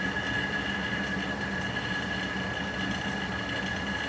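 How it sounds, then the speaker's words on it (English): Vacuum pump running on the air conditioning system of a 2012 Ford Escape, a steady, even mechanical drone with a sustained tonal whine, close by and constant with no talk. "Vacuum pump's going on."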